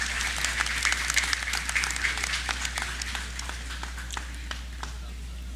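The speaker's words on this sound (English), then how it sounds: "Another round of applause for the Honorable Sybil Joyce Hilton." Audience applause at a National Heroes Day ceremony, a sustained round of clapping from the crowd that gradually thins out, with a low steady hum underneath.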